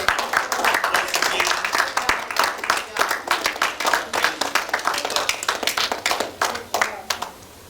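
Applause from a mosque congregation during a Christmas message, a sparse crowd of individual hand claps with sharp distinct strikes in an uneven rhythm, moderately close and thinning out at the finish.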